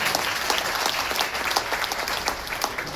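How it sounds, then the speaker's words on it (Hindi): A crowd at a ceremonial gathering gives loud, sustained applause, a dense wash of many clapping hands lasting the full three seconds. "जोरदार तालियां एक बार।"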